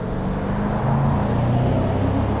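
A four-door Dodge Charger muscle car rolls by on a street, its low engine rumble and tire noise rising briefly in a short, steady pass heard from the roadside.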